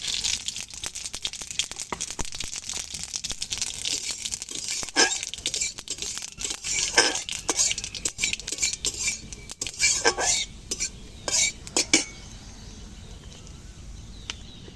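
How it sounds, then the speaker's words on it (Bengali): Black mustard seeds dropped into hot oil in a wok spit and crackle with sharp popping bursts, mixed with metallic clinks of a spoon against the pan, ending in quieter sizzle. "এদিকে কড়াইতে আবার তেল দিয়েছি, তেল গরম হয়ে গেছে। টক রান্না করে নেব। এই যে এখন দিয়ে দিচ্ছি কালো সরিষা ফোড়নে।"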